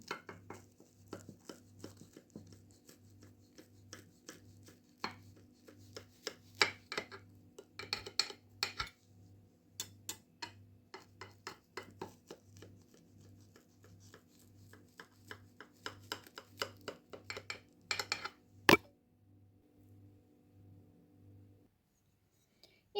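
A knife cuts a baked souffle pie into pieces, giving soft scraping and light taps against the dish, irregular and close, over a faint steady low pulsing hum, with no talking.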